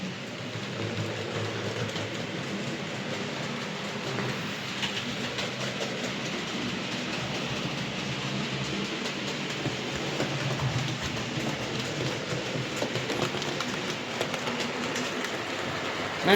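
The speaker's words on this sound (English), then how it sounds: "You can see how much that locomotive smoothed it in the time I've let it run round now." Model railway locomotive running round its track, a steady close whirring rumble with faint rhythmic clicking that stays even throughout, no talk.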